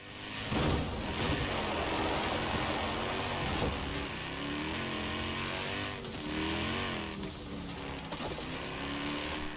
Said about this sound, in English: When you're in chase camera, it mimics the sound coming from the rear of the car as if there was a microphone hovering under the camera.